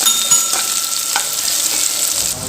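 Small onions sauté in hot oil with mustard seeds and fenugreek, giving a steady close sizzle with faint crackles and light stirring scrapes throughout.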